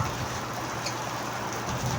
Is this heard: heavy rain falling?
yes